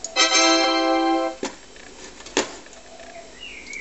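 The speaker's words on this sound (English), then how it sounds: "Ta-da!" A Windows 3.1 system sound plays on an IBM PS/ValuePoint 433DX/Si: a loud, sustained, rich chord lasting about a second, followed by a couple of faint clicks.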